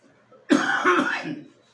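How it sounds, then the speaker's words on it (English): A single harsh cough bursts out after a moment of quiet, followed by a rough, rasping throat-clearing that trails off over about a second. "sorry, coughing."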